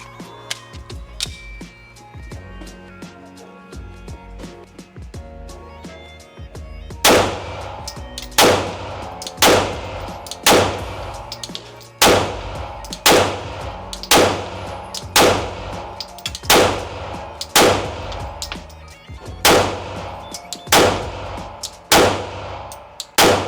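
Glock 19 pistol fired at a shooting range, a steady series of about a dozen loud, sharp reports spaced roughly a second apart, preceded by quieter clattering and handling noise.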